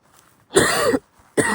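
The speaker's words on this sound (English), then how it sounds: "I've been coughing constantly." Two harsh coughs from a person on a windy winter hike, one longer burst followed by a short second cough after a pause, close and loud.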